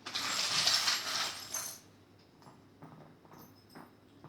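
A handful of small charms is cast onto a surface, giving a bright jingling clatter up front, then a few lighter scattered clicks as the pieces settle.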